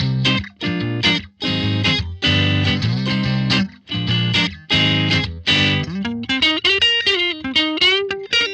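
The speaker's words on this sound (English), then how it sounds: "Let's put our compressor in at the end. That's going to sound like this." Electric guitar on a Line 6 Helix with a compressor pedal at the end of the chain, playing chopped chords then a melodic single-note line, with a compressed, even, sustained tone; loud and close, no talking.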